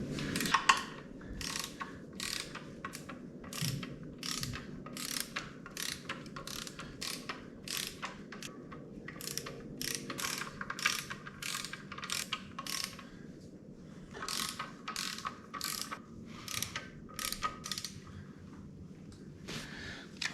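A torque wrench fitted with an extension ratchets on a 1955 Chevy four-speed transmission, giving close, crisp clicking bursts in quick rhythmic runs with brief pauses between strokes.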